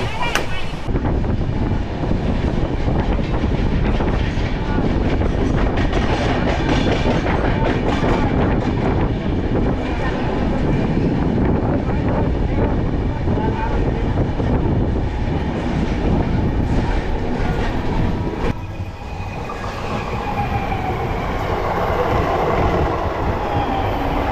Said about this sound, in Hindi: Coromandel express Calcutta to Chennai, Calcutta to Chennai.